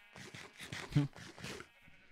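Sheep bleating in Minecraft, a run of several wavering bleats close up in quick succession, fairly loud against a quiet background.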